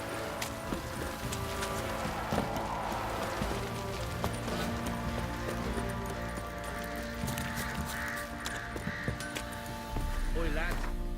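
Horses clip-clop in a stable in the video game The Witcher 3, with hooves thudding intermittently alongside crow caws and background voices.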